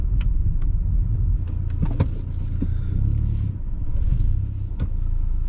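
Stage 2 Volkswagen Golf GTI under hard acceleration, a loud steady engine rumble heard from inside the car for the whole stretch with a few sharp clicks and shifts in tone.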